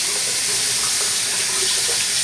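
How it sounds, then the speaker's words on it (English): Hot water gushes from a bathroom tap in a steady, loud, continuous stream close to the mic, alone without any voices. "I'm going to turn on the hot water"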